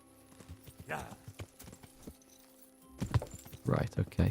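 Horse hooves clip-clopping in the video game Kingdom Come: Deliverance, a run of close, irregular hoof thuds, with faint bursts of speech and a louder clatter toward the end.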